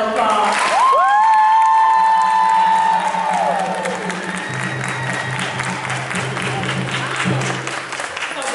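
An audience at a middle school graduation ceremony applauds its 8th grade graduates with sustained clapping and cheering, a sharp whistle ringing out near the start and voices talking under the applause.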